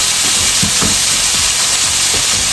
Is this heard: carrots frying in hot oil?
yes